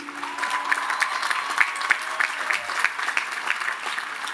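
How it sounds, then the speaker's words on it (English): Applause for the graduating class of 2018 at a Lehman College commencement ceremony, sustained clapping from a large crowd with a few sharper claps standing out and a faint voice underneath. "A big round of applause for our class of 2018."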